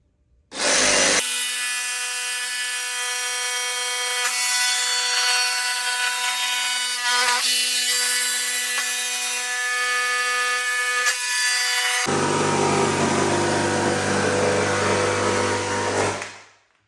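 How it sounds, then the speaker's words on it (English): A jigsaw cuts an opening in a hollow door for a cat door, with a loud, continuous buzzing and rasping blade that runs close and unbroken for most of the clip and shifts in tone partway through before cutting off. "And that is how easy it is to cut the door."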